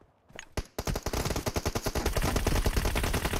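Rapid automatic gunfire from a GROZA assault rifle in a PUBG Mobile team deathmatch, a few isolated shots followed by a loud, sustained burst of closely spaced rounds.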